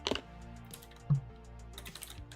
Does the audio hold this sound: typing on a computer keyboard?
yes